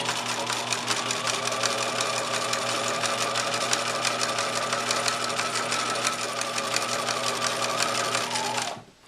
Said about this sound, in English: Line up the edge of your fabric with the inside edge of the presser foot and zigzag that edge.